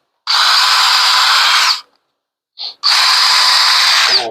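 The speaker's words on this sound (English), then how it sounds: "And let's drill a couple holes." A handheld power drill bores holes into 2x4 lumber for a shave horse build, in two loud, close whirring bursts separated by a brief pause.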